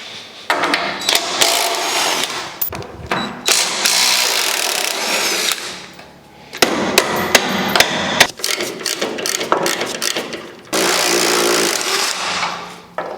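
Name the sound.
hammering off leaf spring hanger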